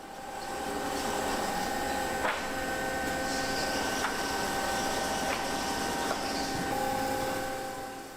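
A CTP plate-making machine for book printing runs with a constant mechanical hum, whirr and faint tonal whine. Sharp clicks or ticks recur every couple of seconds, and the noise fades in at the start and out at the end.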